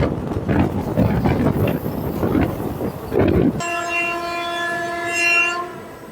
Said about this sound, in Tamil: இந்த லைனில் ட்ராவல் பண்ணக்கூடிய ஒரே ஒரு ட்ரெயின் இது தாங்க